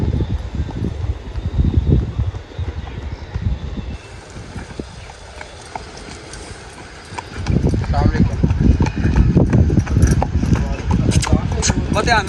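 Horse with a rider on its back walking at a steady gait, hooves clip-clopping close by in an outdoor setting, with wind and rustling; the hoof beats grow louder and denser in the last few seconds, with people talking.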